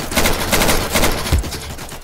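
Rapid gunfire rattles in an Insurgency match, a close, loud string of repeated shots in quick rhythm with a heavier thump near the end.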